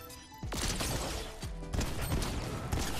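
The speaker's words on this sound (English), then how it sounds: "They hit a big pump shot on me, a big, big pump shot." Pump shotgun shots in Fortnite crack out as several sharp, loud blasts at irregular intervals, each with a short echoing tail over busy game noise.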